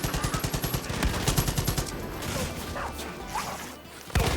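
Rapid automatic AK rifle fire in Far Cry 5, a fast run of sharp, loud shots for about two seconds, followed by a rumbling game soundscape and a final burst at the end.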